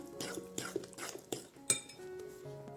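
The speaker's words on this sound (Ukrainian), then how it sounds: "Тепер це все треба гарно перемішати." A spoon stirs a mixture in a bowl, clinking and scraping against the sides in a loose, repeated rhythm.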